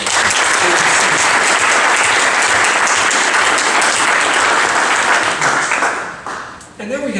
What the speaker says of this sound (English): So let's just give Paul a round of applause.